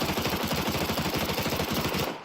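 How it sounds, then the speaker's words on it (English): Suppressed MP7 submachine gun fire in a video game, heard from 500 units away, comes as a rapid continuous burst of dense, even shots for about two seconds before stopping. "Here is how the MP7 sounds at 500 units."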